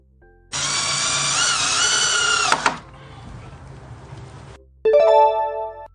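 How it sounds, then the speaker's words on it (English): A cordless screwdriver whirs loudly for about two seconds with a rising and falling motor pitch, then sinks to a quieter hum before a brief sharp burst near the end. "This is a cordless screwdriver. This tool twists screws in and out with just a button."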